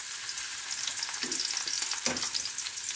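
Garlic fries in a pan for a shrimp dish with pechay, cabbage and squash, giving a steady close sizzle and a couple of brief stirring scrapes.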